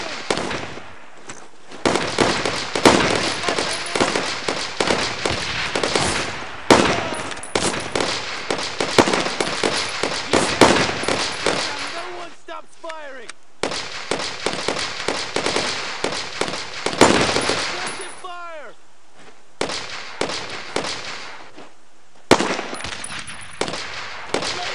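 Dense World War II gunfire from the video game Brothers in Arms: Road to Hill 30 sounds as loud rapid bursts of rifle and machine gun shots, with brief pauses between volleys and sharp single cracks near the end.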